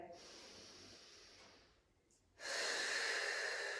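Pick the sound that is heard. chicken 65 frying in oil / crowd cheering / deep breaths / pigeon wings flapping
deep breaths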